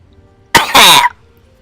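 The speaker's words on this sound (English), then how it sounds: "Sorry, terrible cough." A woman lets out a harsh, terrible cough in two quick, loud, close bursts, followed by silence.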